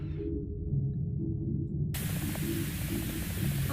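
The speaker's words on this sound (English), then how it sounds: "Only white noise and TV." Steady broadband TV static hiss from an untuned channel in the video game Hello Charlotte, cutting in abruptly partway through over a low droning hum and running continuously to the end.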